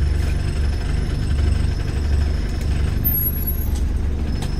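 A 1994 Isuzu Panther car brakes with the clutch pushed in, its engine giving a steady, loud, low rumble that holds evenly throughout with no talking.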